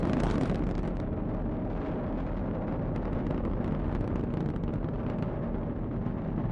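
SpaceX rocket launching a Dragon capsule, heard as a continuous dense roaring rumble with crackle, steady and loud throughout with no pauses.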